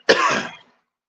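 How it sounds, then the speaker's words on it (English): A single rough throat-clearing cough, close and fairly loud, lasting about half a second before fading into silence. "You got to get a little cough out."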